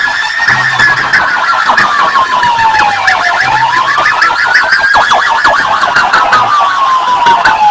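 A toy police car's electronic siren wails loudly and continuously, its pitch sweeping down and back up in a slow whooping cycle over a buzzy, pulsing tone, with no talking.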